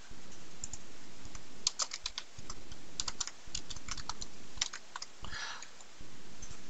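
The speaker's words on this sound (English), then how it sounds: "If I could type it would be better." Typing on a computer keyboard, heard as quick clusters of close, crisp key clicks in several bursts separated by short pauses, with no talk.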